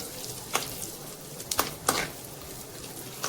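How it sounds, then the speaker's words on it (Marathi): Whole spices such as cardamom, cinnamon, black pepper, cloves and cumin fry in hot oil with a soft steady sizzle, broken by a few sharp stirring scrapes. "हे खडे मसाले छान 1 मिनिटभर तेलामध्ये फ्राय होऊ द्यायचे"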